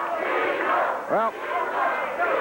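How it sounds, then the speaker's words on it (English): A wrestling crowd at a 1990 USWA Memphis Wrestling match chants at the heel Downtown Bruno, a dense wall of many voices filling the arena with a rising shouted swell near the middle. "crowd chanting "Weasel, Weasel""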